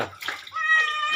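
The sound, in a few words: water running while bathing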